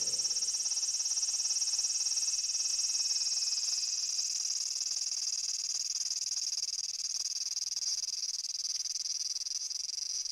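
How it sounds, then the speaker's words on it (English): Cicadas singing loudly at the peak of summer, a continuous high, shrill drone holding steady and unbroken for ten seconds with no voices. "The cicadas are singing loudly, which is normal for this time of year."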